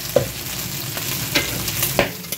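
Oil spattering and sizzling in a pan while mung beans (ginisang munggo) are sautéed, with a steady frying hiss and several sharp popping bursts, close and fairly loud, with no talk.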